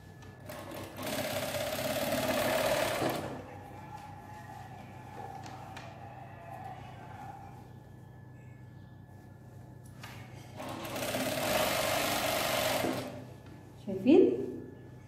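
A sewing machine stitches elastic onto a women's blouse in two rapid bursts of several seconds each, separated by a quieter pause with some faint sound, and a short clack near the end.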